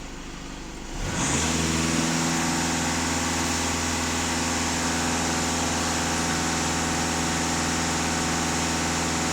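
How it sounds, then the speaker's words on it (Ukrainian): A VW Passat B8 with the 2.0 TDI EA288 diesel engine, which starts from a quiet rumble and then jumps to a steady, loud, droning hum held for several seconds at high revs, heard close with no talking. "даю газ в пол"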